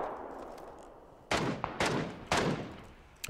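Gunfire in the video game PUBG, three or four sharp, loud bursts of shots spaced about half a second to a second apart after a quiet lead-in, with a faint hiss underneath.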